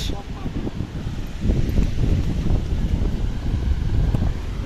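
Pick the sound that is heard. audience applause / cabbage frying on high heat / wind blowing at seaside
wind blowing at seaside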